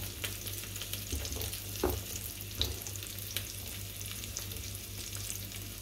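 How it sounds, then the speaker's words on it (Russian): A whole fish, floured red fish, fries in a pan with a steady soft sizzle and crackle, with a few louder pops and spits; no one speaks. "А ее можно жарить без муки."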